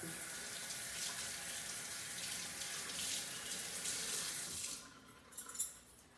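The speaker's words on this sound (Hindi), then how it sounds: "मुझे अब थोड़ा सा हाथ धो लेंगे" Hands washed under a running kitchen tap while cooking chicken in an Instant Pot. A steady, close rush of water runs for several seconds, then shuts off, leaving a few splashes and drips.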